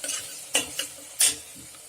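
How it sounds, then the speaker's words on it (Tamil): Chopped vegetables being sautéed in a pan for vegetable biryani, with a soft sizzle under a few distinct scraping stir strokes of a spoon against the pan, close by and fairly quiet, with no talking. "இப்போ நம்ம அறுத்து வச்சிருக்கிற காய்கறிகளை ஒவ்வொன்றா சேர்த்து நல்லா வதக்கணும்."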